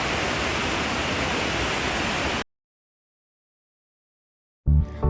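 Bomburu Ella waterfall in Sri Lanka roars as a dense, steady rush of falling water. The sound cuts off abruptly to silence partway through, then a short burst of sound returns at the very end.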